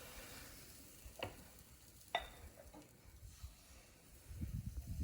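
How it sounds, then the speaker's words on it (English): Waffle batter sizzles softly in a hot waffle iron, a faint steady hiss broken by a couple of sharp clicks and a closing rumble, with no talking. "Listen to that sizzle."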